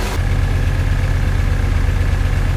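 A 1979 Chevrolet Camaro engine idles steadily with a low, even rumble, close and fairly loud, with no talking.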